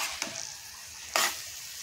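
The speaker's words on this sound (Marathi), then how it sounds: "आता तुपावरती छान असं अजून परतून घेऊया 5 मिनटं" Garden cress seeds roasting in ghee in a pan, giving a faint, soft sizzle with two brief louder scraping stirs, close and quiet, with no voices.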